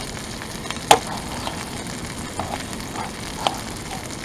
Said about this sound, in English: Do some pan fried potatoes.